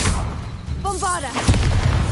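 A Bombarda blasting spell in Hogwarts Legacy lands as a heavy, loud boom with a dense rumbling spread, over a continuous game soundscape, with a brief voice-like tone near the middle.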